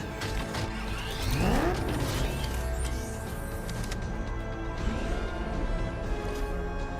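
Batmobile in the video game Batman Arkham Knight driving hard, a steady engine roar with a sudden crashing impact and sweeping whoosh early on, then continuing rumble under game ambience.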